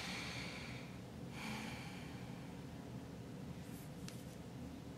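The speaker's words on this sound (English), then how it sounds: "Take a deep breath." A close, drawn-out deep breath in through the nose and then released, soft airy rushes over a steady background hiss, alone with no talking.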